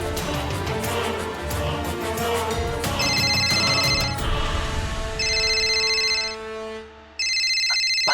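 An incoming-call ringtone rings in several bright, repeated bursts over a bed of background music, fairly close and clear.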